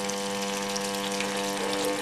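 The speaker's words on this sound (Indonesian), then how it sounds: "kita tunggu sampai air mengalir." Water gushes steadily into the drum of an LG top-loading washing machine on a soak cycle, a constant close hiss with a low mechanical hum underneath.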